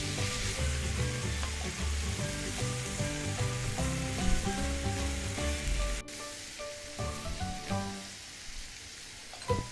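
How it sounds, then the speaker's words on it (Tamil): Tomatoes, crushed crab and spices sizzle steadily in a hot pan while being sautéed for a South Indian crab soup, a continuous close frying hiss with stirring, softening somewhat toward the end. "தக்காளி பழத்தையும் இப்போ சேர்த்துக்கலாம். இதில் எல்லாம் சேர்த்து நல்லா கொஞ்சம் வதங்கட்டும்."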